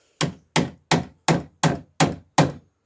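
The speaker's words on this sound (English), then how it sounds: "So now I'm trying clamping and nailing." Seven sharp, evenly spaced hammer blows drive nails into a metal sandwich roof panel, each strike close and loud with a short ringing decay, no talk.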